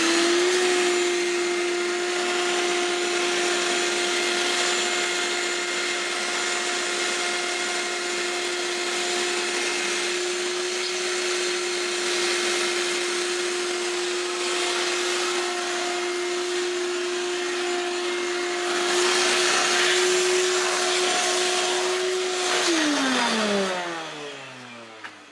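A shop vac runs for a long stretch with a steady loud whine and roaring airflow, then winds down as its motor pitch falls away and the power cuts out, with no talking over it.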